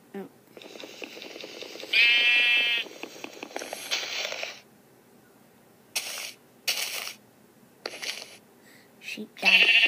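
Sheep in the Minecraft video game bleat several times, short nasal cries heard close and loud, interspersed with game clicks and a player talking.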